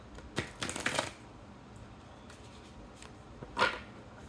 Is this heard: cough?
no